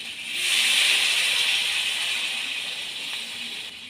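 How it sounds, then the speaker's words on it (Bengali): Water poured into a frying fish curry with teasel gourd and potato sends up a loud, broad steam hiss that swells quickly and then slowly fades while staying close and continuous. "এবার আমি জল দিয়ে দেব।"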